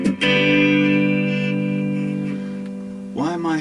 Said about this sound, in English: Why am I making echoey noises?